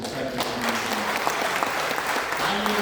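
Steady, loud applause from an audience at a Hindi poetry recital, a dense wash of clapping sustained throughout with faint crowd murmur beneath.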